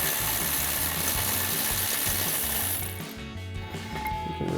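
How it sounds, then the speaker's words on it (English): A power ratchet spins bolts out of a front suspension bracket on a Ford F-150 during a leveling kit install, a loud continuous mechanical whirring and clicking buzz that dips briefly near the end before resuming. "we'll run them out with our power ratchet"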